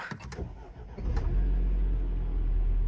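A Mini Countryman with deployed airbags being started with the clutch in: a few clicks and a brief crank, then the engine catches and settles into a loud, steady idle close by.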